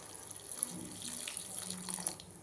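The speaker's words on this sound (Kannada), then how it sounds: "ಬೇಯಲಿಕ್ಕೆ ಎಷ್ಟು ಬೇಕೋ ಅಷ್ಟು ನೀರು" Tap water pours steadily into a pot while tomato rasam is cooked, a continuous close splashing stream with no talking.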